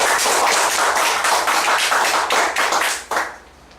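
An audience at a 2013 CSEC graduation ceremony breaks into dense, steady applause, many hands clapping together loudly and close, then quickly tapering off near the end.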